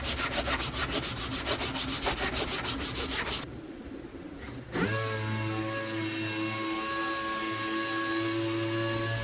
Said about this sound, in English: I use an aggressive metal file to knock down any high spots.